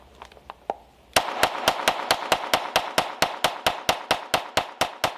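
A Sig Sauer P322 firing Remington Thunderbolt .22LR rounds at a range, a couple of faint clicks and then a rapid, evenly spaced string of about sixteen loud, sharp shots fired one after another.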